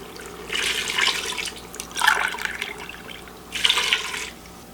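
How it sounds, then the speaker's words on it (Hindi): Water is poured in bursts into a pot of beef for nihari, three gushing splashes over a steady low simmer or background hum, close and fairly loud. "इसमें 6 कप पानी ऐड कर देंगे"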